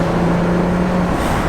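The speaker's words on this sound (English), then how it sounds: "Let's give it another rev." A Chrysler Sebring engine revs briefly, a loud, close, steady drone with a rough rumbling low tone.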